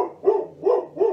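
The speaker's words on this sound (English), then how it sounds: "We're just going to have him barking in the background if that's okay." A dog barks three times in a steady rhythm, the barks close and fairly loud against a quiet indoor background with nothing else heard.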